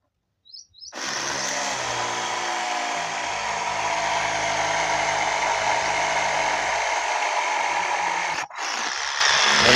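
A homemade battery-powered drill boring a hole for fence wire on a farm, a loud steady high whine that starts abruptly, runs continuously, and briefly dips before rising again.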